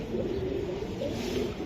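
A racing pigeon gives low, soft cooing that wavers close by. The calls run continuously over a short stretch with no talk.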